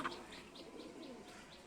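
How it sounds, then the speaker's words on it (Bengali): Pigeons coming down to land at the loft at the close of a 40 km pigeon race, giving soft repeated coos and chirps, faint and somewhat distant with no voices. "এই যে দুইটা কবুতর নামতেছে"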